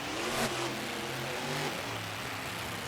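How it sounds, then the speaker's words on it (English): A race car engine revs at a center pad at a racing event, a steady mid-pitched roar that rises and falls in short waves, moderately loud with no talk. "Rageaholic heading over to that center pad and revving the engine up for these fans"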